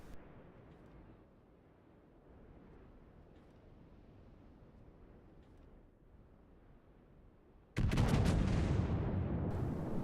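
Naval guns fire in the warship game World of Warships: a steady low battle rumble, then a sudden loud broadside blast that rolls on as a sustained heavy roar.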